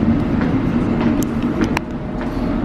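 Inside a London Underground metro carriage, a loud continuous rumble of the running train fills the space, with a few faint squeals and clicks over it.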